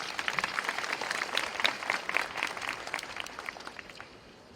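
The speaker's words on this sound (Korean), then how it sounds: "박수로 맞아주시기 바랍니다." A crowd of students claps steadily at a Korea University rally condemning the election commission, the applause dense and fairly close before tapering off toward the end.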